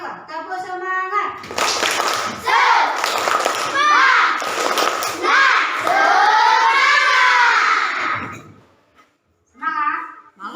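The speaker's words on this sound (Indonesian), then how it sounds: "Coba tepuk semangat." A class of schoolchildren chants and claps together in a rhythmic classroom cheer, loud shouted syllables punctuated by sharp group claps, fading to a pause before a few more voices.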